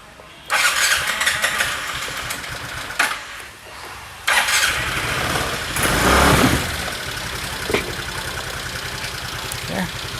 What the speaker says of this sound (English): Yeah, the bike started.